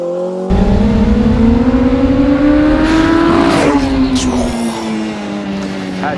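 A 1000bhp Ariel Atom on a race track gives a loud, near engine note that climbs in pitch under acceleration, then drops on a gear change and fades slightly as the car moves off.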